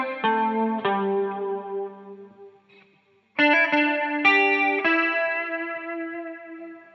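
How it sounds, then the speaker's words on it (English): An electric guitar run through the Amplitude 5 amp simulator's banjo preset, with a chorus effect, plays a twangy plucked country-folk melody. Bright, ringing notes are picked one after another, pause briefly, then resume louder and close. "I just played this melody on my electric guitar"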